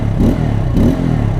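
Exhaust note of a 2022 Bajaj Pulsar N250 with dual-ABS and a new twin-outlet muffler, a steady, loud, close-up deep burble with two brief swells in revs, no talking over it.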